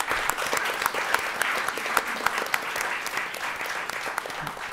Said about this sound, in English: So give a round of applause to our panelists.